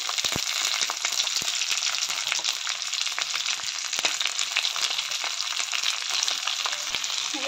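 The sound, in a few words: onions frying in oil with garlic and ginger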